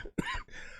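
A single short cough bursts out in the middle of casual talk on a home livestream, brief and close, with breathy vocal sounds around it.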